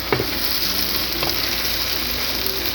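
Food frying in a pan over a fire while being stirred, a steady close sizzle throughout with a few scraping stirs.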